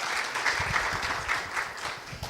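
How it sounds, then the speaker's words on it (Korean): Applause from a conference audience welcoming a presenter onto the stage, a steady wash of many hands clapping at moderate distance, brief and even, with no voices. "큰 박수 부탁드립니다."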